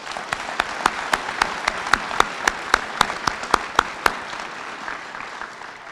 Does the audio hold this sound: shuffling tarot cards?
no